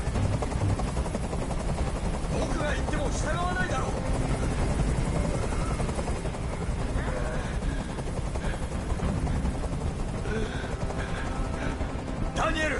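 A helicopter hovers in a PS4 video game, its steady rotor drone running continuously underneath characters talking, with occasional sharper mechanical bursts in the mix.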